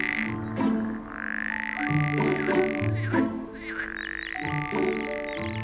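Frogs croak outside through open doors, a busy chorus of repeated calls layered with steady trilling, fairly close and continuous with no talk over it.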